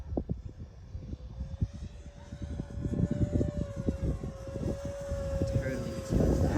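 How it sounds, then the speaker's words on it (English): Arrows Hobby 50mm Viper EDF RC jet flying past outdoors with a custom canopy, a sustained whining ducted-fan tone over gusty wind buffeting, with people talking intermittently. "It's such a good flying EDF, isn't it?"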